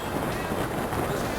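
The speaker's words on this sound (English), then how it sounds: "It's bloody windy." Strong outdoor wind buffets the microphone in a dense, steady roar, loud and unbroken for the whole moment with no clear voice over it.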